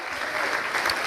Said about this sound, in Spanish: Den un aplauso al Señor